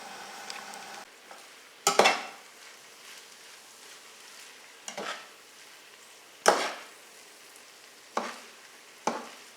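Rice with yellow spices cooking in a covered pot, stirred now and then: a soft steady simmer underneath, broken by several sharp scraping stir strokes and clinks of a utensil at irregular intervals, close by.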